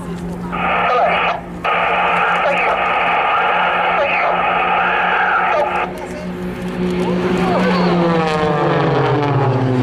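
Blades aerobatic team aircraft crossing overhead during a Waddington air display, a loud sustained engine drone with a rising then falling pitch as they pass, heard behind announcer talk over a radio-like cockpit feed.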